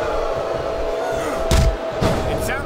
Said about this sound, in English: It sounds like this capacity crowd has something on their minds